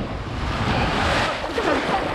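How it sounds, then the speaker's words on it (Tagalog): Ocean surf on an island beach rolls and washes in close, a broad rumbling roar mixed with wind buffeting the microphone, continuous and fairly loud with no voices. "Nakakalon!"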